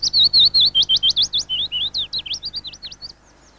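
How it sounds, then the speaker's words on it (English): Willow warbler song in a British garden: a clear, close series of high, descending sweet notes, a rapid run of about twenty phrases that fades toward the end, heard alone. "Only in larger gardens are you likely to hear the song of willow warblers"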